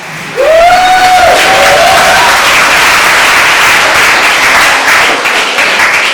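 An audience breaks into applause and cheering after a poem at a mental health and World Homeless Day event, a loud burst of clapping with a whoop near the start, sustained and slowly fading.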